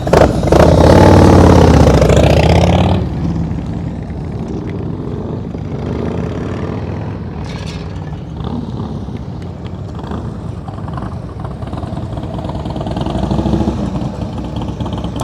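Motorcycle with straight-pipe exhaust riding at slow speed, its loud, raw engine blast strongest at the start, then dropping to a steady lower rumble mixed with wind noise through the rest.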